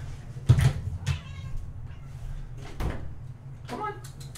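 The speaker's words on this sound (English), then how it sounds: "I think the other kitty wants in." A cat meows at a door wanting to be let in indoors, a few short separate cries with some soft knocking or handling sounds between them, fairly close and clear with no talk.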